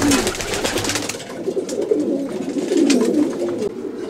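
Racing pigeons in a loft's winter section for cocks coo and murmur continuously in a dense chorus with soft overlapping calls, some wing rustling, close and steady throughout.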